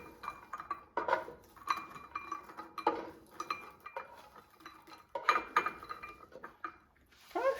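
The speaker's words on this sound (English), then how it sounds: "And let's remove it from the frying pan." Toasted walnuts are scraped and moved out of a frying pan, giving a series of light clinks, taps and scraping knocks against the pan, close and moderately quiet, with short pauses between strokes.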